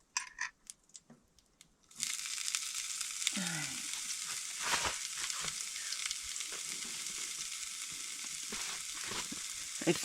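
Home-canned sausage hits a hot pan on a camp stove in a tent at minus 30 °F, after a few clinks, and then sizzles and fries steadily and up close, with occasional stirring scrapes.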